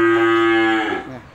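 A single loud, close cow moo, a sustained tonal low call fading out at the end, from cattle in a Vietnamese livestock sale pen.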